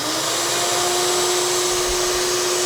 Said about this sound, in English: That's just the shop vac.